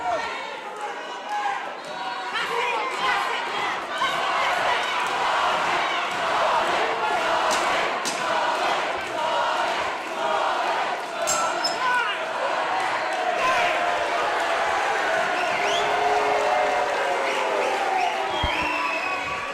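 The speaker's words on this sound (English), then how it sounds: "it's turned into a bit of a hostile crowd here." A crowd at a live boxing match turns hostile, a loud, continuous roar of voices with shouts and whistles rising and falling throughout, while commentators talk over it.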